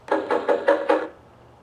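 A GE/Jasco wireless doorbell plays its knock sound, five quick, evenly spaced woody raps up close, then silence.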